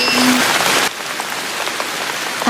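Heavy rain pours down during a typhoon, a loud, dense, continuous hiss that briefly drops a little in level partway through, with no talking.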